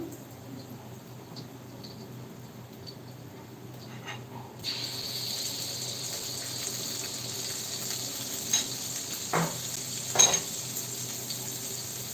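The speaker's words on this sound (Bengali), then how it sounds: "অনেকগুলো পিঠে ভাজা হয়ে গেল" Low steady sizzling of pitha cakes frying in oil runs throughout, with a few sharp clinks and scrapes of utensils near the end.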